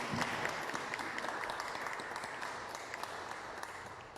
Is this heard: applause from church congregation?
yes